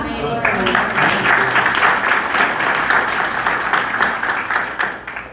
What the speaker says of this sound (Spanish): Quem crê, aplaude.